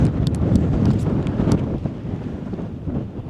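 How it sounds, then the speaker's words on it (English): Persistent wind on an open Lake District fell near Thornthwaite Crag buffets the microphone with a low, continuous rumble and roar, gusting unevenly throughout with no talk. "that wind is getting quite persistent"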